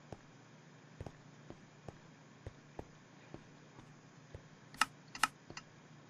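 Faint, regular clicks tick away from a gold collection and sorting system in a block-building game base, with a couple of sharper mechanical clacks near the end over a low background hum.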